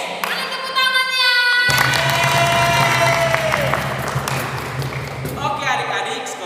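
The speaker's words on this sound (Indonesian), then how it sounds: "Mana tepuk tangannya?" Children at a Sunday school session applaud and cheer, a loud burst of clapping and excited shouts that swells and then tapers, with voices and a tonal ping mixed in.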